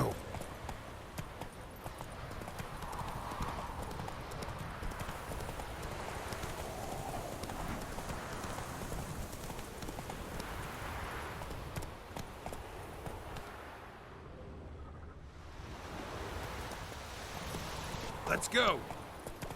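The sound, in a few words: horse hooves galloping in video game The Witcher 3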